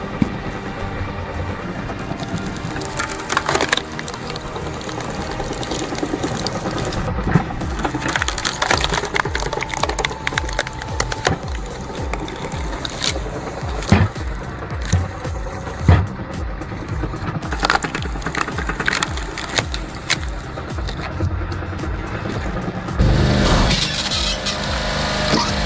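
Firewood logs being split by a log splitter in repeated wood-cracking and splintering bursts over a steady running machine drone, loud and close throughout with no talk.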